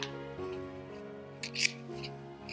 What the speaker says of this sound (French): la dernière chose qui reste à faire, c'est déchirer le carton, les deux cartons